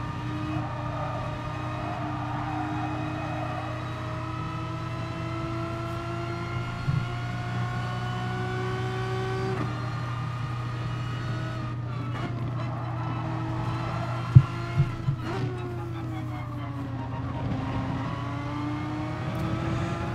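A race car engine howls continuously in GT Sport at Suzuka, the steady high drone rising and dipping through gear shifts, with other cars faintly nearby.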